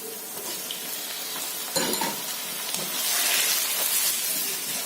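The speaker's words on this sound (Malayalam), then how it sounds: "നമുക്കിനി ഇതിലേക്ക് ചിക്കൻ ആഡ് ചെയ്ത് കൊടുക്കാം." Marinated chicken, seasoned with salt, chili powder and turmeric, drops into a pan of frying onions, bursting into a loud sizzle and continuing to hiss steadily as it cooks.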